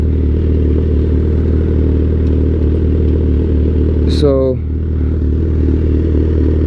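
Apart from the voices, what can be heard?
2008 Suzuki GSX-R 1000 motorcycle engine, throttle on and off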